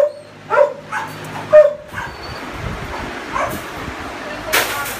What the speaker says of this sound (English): Duke, beautiful hound dog.